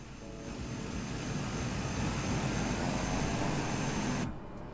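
A general-aviation aircraft engine drones steadily in Microsoft Flight Simulator, a loud, even propeller hum with low rumble that holds for several seconds before cutting off abruptly near the end.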